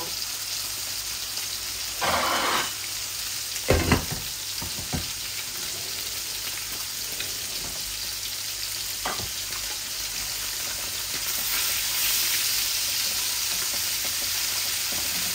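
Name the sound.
tilapia fish frying in oil in a pan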